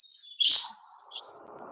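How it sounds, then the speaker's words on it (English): Birds chirp loudly and close by in a short burst of sharp, high tweets, followed by a fainter fluttering trill. "Them birds are starting to get a bit loud, mate, aren't they?"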